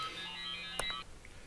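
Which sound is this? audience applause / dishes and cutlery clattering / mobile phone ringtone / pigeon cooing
mobile phone ringtone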